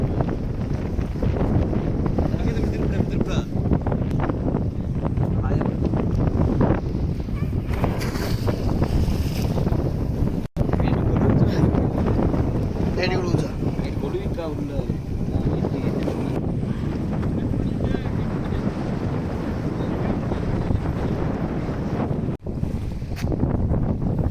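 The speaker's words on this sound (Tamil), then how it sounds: "காற்று ஓரளவு நல்ல பரவாயில்லாமல் இருக்குது அதனால் படகு அசைஞ்சிக்கிட்டே இருக்குது" Steady wind roars across a microphone with water sloshing against the hull of a boat rocking at anchor at sea, a continuous loud rushing that barely changes throughout.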